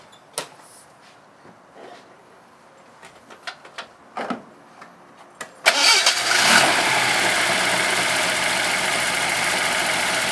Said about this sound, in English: why don't we fire it up and see what it sounds like?